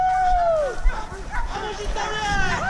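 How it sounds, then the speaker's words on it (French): Hunting dogs bay during a wild boar hunt in France, a chorus of long, wavering howls and yelps rising and falling continuously at moderate distance, with faint human voices and outdoor noise mixed in. "Super musique des chiens."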